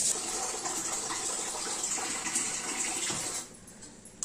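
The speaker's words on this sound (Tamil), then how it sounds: "நல்லா கொதிச்சிடுச்சு. குழம்பு எடுத்து ட்ரான்ஸ்ஃபர் பண்ணிடலாம்." Boiled kuzhambu curry being poured from a pot gives a steady, close liquid gush and splash. It runs for about three seconds, then thins out and stops near the end, with no voices.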